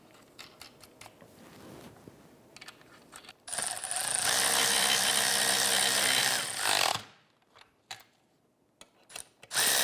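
A power tool runs in one steady, loud whirring burst of about three seconds, snugging the lower control arm nuts on a 2011-2018 Volkswagen Jetta, with quieter clinks before and after.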